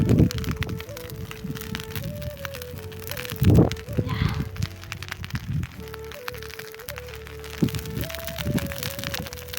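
Crackling of a fire just lit in a field after a tori harvest, with sharp pops and snaps close by, and voices talking over it.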